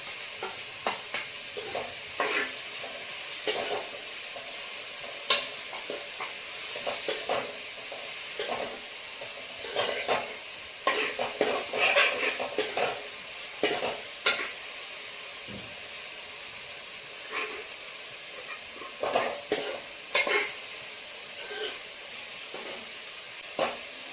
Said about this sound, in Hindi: आलूओं को हमने फ्राई कर लेना।